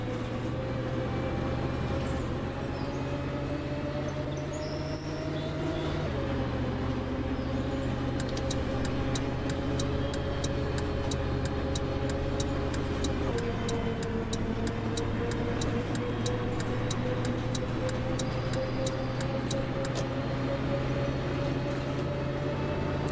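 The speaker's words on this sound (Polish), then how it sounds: "Ale załadowany jest wóz, ledwo jedzie" Heavily loaded bus in Bus World crawling slowly along, its engine droning steadily at low revs with gear-like shifts in pitch and a faint ticking layered on top, with no talking.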